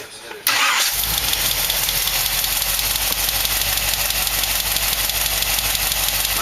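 A '78 big block car engine fitted with a Holley carburetor cranks and catches, then settles into a steady, loud idle that runs on evenly without a break.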